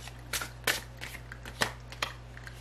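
A tarot card drawn from a deck makes a few quiet, brief papery slides and snaps, about five separate light strokes spaced unevenly in a hushed room.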